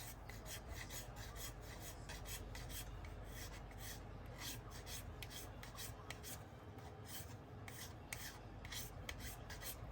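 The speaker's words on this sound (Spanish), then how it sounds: "Y ir dándole adelante y atrás y a la vez mover la lima en diagonal" A hand file rasps back and forth diagonally across a plastic scale-model part for an M109 self-propelled howitzer turret, a steady, close, continuous scraping with regular repeated strokes and no talking.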